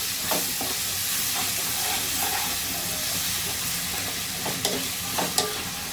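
Chicken pieces browning in hot oil with ginger-garlic paste hiss and sizzle steadily throughout, with a few sharp spoon scrapes and stirs against the pan near the end.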